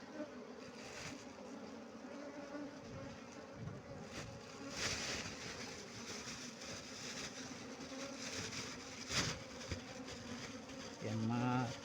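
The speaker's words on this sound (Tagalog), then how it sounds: "Grabing honeybee nila." Honeybees buzz around steadily at close range with outdoor wind noise, while a few louder bees pass near the microphone.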